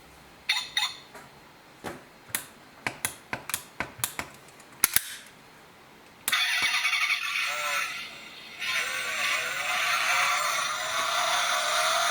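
A series of sharp clicks and taps comes first, then a steady whirring, buzzing engine-like sound effect from a toy model car plays continuously, fairly close.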